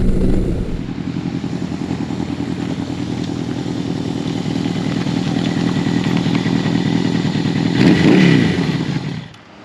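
A Yamaha XJ1100 Maxim motorcycle is ridden with its engine running steadily at speed. The drone is loud and continuous, and it swells briefly near the end as the rider accelerates.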